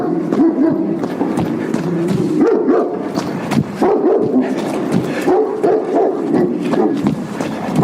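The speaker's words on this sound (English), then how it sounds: "I would take pictures of the junkyard dog, but that would only cause him to bark more." A junkyard dog barks repeatedly and loudly up close, a steady string of woofs with some yips and whimpers running almost without pause.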